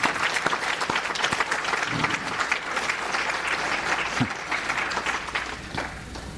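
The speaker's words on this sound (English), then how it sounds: "I think we could give them a round of applause as well" Sustained audience applause at a regional youth prevention summit, many hands clapping in a steady, even roar for the full length, moderately distant with no talk.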